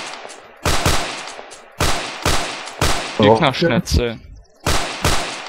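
Gunfire in the shooter game Insurgency: loud, sharp bursts of shots repeat every second or so, with a voice talking between them.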